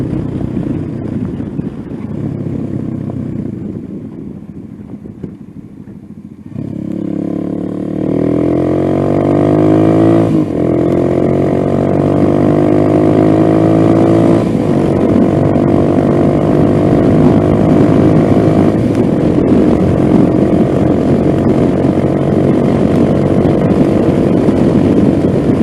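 A Venom Ghost 250 motorcycle fitted with a 36-tooth rear sprocket rumbles low at first, then revs up and pulls away, its engine drone rising in pitch through the gears into a loud, steady ride with wind noise.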